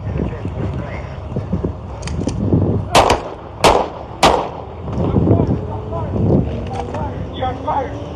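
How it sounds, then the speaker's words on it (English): Three sharp, loud gunshots ring out in quick succession from police firing during an arrest, caught on a body camera amid wind buffeting, rustling and brief speech. "Shots fired."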